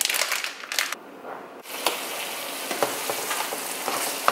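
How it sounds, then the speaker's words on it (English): Ground bison meat browning in a pan sizzles steadily, a continuous frying hiss broken by a few scraping stirs and a short quieter gap near the start. "we're gonna brown 1 pound of ground beef or meat"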